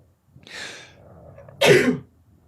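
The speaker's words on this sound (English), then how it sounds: "I've never sneezed on the podcast before, ever." One person sneezes up close in a quiet room: a sharp inhaled build-up, a short pause, then a loud single explosive burst.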